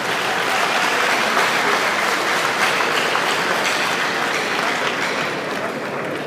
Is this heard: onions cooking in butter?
no